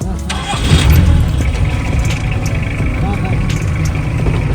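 Jeep engine running as the vehicle sets off on a rough dirt road in the Thar region, a steady low rumble throughout with a louder surge near the start, people talking over it.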